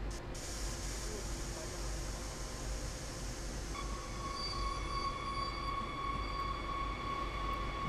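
Train from Train Sim World's Cross Town rapid transit route running at steady speed, a continuous low rumble and rolling noise with a rising whine and tonal squeal creeping in partway through.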